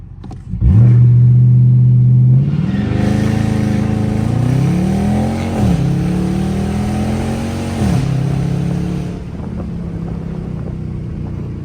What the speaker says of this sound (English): All right, we're gonna activate the launch control.